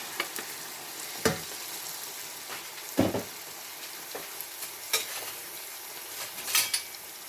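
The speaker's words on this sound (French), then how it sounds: "il faut que je touille ça et que je mélange le tout" Chicken frying in a pan with browned spices for a Madras curry, a soft continuous sizzle broken by several sharp scrapes and clanks of a utensil stirring against the pan, with no talking.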